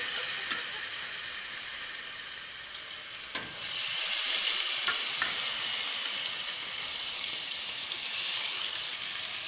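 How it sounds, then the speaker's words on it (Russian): Steady crackling sizzle of potatoes frying in a hot pan, loud and close, briefly stirred partway through and then hissing on evenly. "Я перепутала, сперва нужно пожарить картошку."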